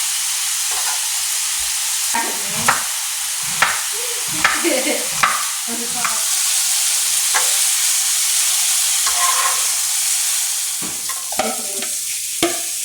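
Sliced bell peppers and onions sizzle in a hot seasoned pan, a continuous frying hiss broken by repeated scraping stirs and clattering utensil strokes, close and loud with no talk.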